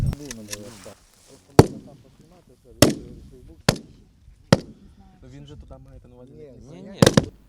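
Loud, sharp gunshots ring out one at a time at uneven intervals from a Kalashnikov light machine gun, with someone speaking between and under the shots.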